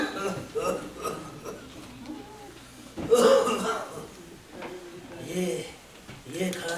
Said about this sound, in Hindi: ये खांसी भी बड़ी बदतमीज है।